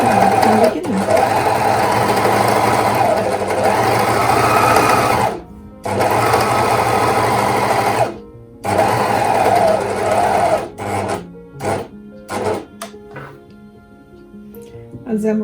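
A sewing machine runs along a skirt seam in loud sustained bursts, stopping briefly between runs, followed by a few short start-stop stitches; no one speaks.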